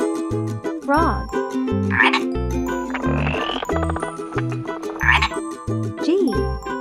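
Frog croaks sound in short bursts, roughly three clustered calls, over a looping children's melody with a thumping bass and bright chimes, the croaking distinct but mixed into the music.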